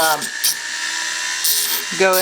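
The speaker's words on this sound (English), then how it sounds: "I'm going to finish sawing" A high, grinding rasp of a jewelry saw cutting metal for a stone-setting frame runs steadily throughout, loud and close, with brief shifts in pitch near the start and end.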